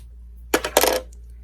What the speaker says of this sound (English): I'm going to go ahead and cut these tails now.